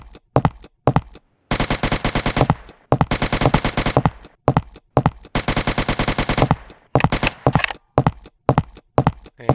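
Rapid automatic gunfire in a Unity first-person zombie shooter, loud close bursts of shots in several long strings separated by short single shots and pauses.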